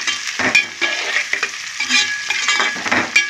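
Vegetables with salt and garlic fry in a pan, a loud close crackling sizzle with repeated stirring scrapes and clinks of a spatula at an uneven rhythm.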